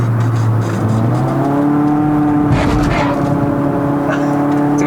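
A modified Proton Persona 1.6L with a CVT gearbox drones loudly and steadily on a mountain climb to Genting in Malaysia, its engine note rising and then holding at a high pitch inside the cabin, with faint talk underneath.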